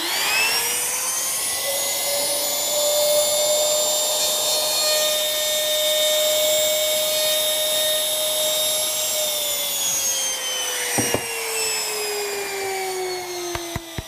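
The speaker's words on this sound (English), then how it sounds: "Let's wait until that router stops so I don't put my hand anywhere near it." A woodworking router runs with a steady high-pitched whine that holds level, then drops in pitch as it spins down toward the end, with a few sharp knocks near the finish and no talking.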